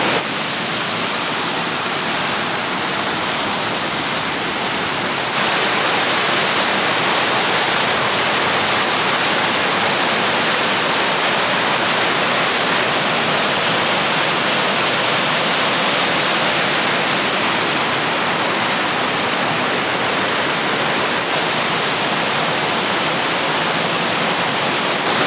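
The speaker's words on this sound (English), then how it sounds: "There's a breeze coming off of the waterfall behind me, and it feels glorious." Multnomah Falls thunders in a steady, loud, broadband rush of falling water, heard close and unbroken without any talk.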